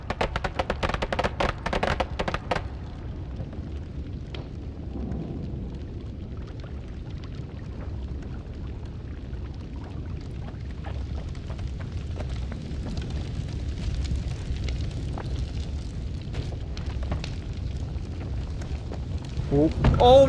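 Fireworks exploding in the video game Noita, a burst of sharp crackling pops in the opening seconds followed by a sustained rumbling roar with scattered crackles, loud and close throughout.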